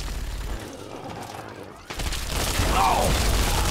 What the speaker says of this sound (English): let's go ahead and get the missile launcher out because I got a feeling this guy is gonna be a dickhead